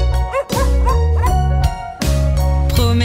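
Cartoonish dog barks and yips from a white dog in a French children's nursery song, loud and close, a quick series of bouncy woofs in a playful rhythm with musical tones underneath.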